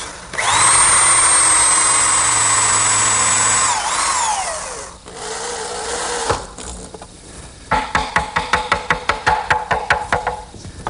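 A power drill drives screws into a maple strip serving as a drawer support and guide, with a long whining run that winds down, then a burst of rapid, loud ratcheting clicks near the end.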